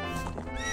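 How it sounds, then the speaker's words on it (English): Epona, the horse in Legend of Zelda: Ocarina of Time, lets out a short, close, bright whinny that lasts under a second. "Good horse. Good Epona."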